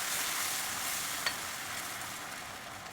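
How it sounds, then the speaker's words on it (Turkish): Cream being stirred into caramel and melted butter in a pan, a steady close sizzle and bubbling hiss with a faint stirring tap, no voices. "Tereyağı eridikten sonra bir paket kremayı ekleyip karıştıralım."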